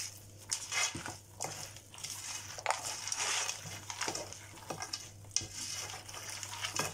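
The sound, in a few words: stirring frozen chicken in a frying pan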